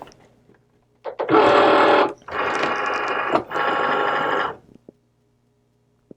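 A Cricut Maker cutting machine whirs in three sustained motor bursts of about a second each as it loads material, followed by a couple of faint clicks, with no talking.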